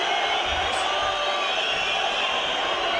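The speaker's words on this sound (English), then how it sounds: "This crowd fired up" A boxing arena crowd keeps up a steady, loud roar of chatter and cheering throughout, a dense continuous wash without distinct peaks, with commentary voices over it.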